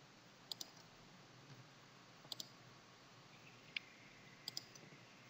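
Computer mouse clicking while working in Photoshop: faint, crisp paired clicks and single clicks spaced across a few seconds over a low steady hum.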